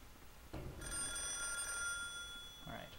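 A telephone rings in the video game Calling, a bright electronic bell ringing steadily and fairly loud after a thump, with brief movement noises around it.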